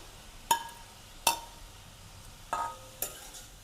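A spoon scrapes and clinks against a pan four times as tomatoes are stirred into frying masala for street-style vegetable maggi, each stroke sharp and close over a soft, steady sizzle.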